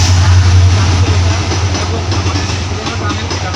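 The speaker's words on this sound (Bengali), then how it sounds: "এই যে দেখো ব্রডগেজ ট্রেনটা পেরিয়ে যাচ্ছে" A broad gauge train rumbles past close by near a railway tunnel at Chandranathpur, Silchar, a loud, steady low roar with rattling wheels throughout, and a voice talks over it.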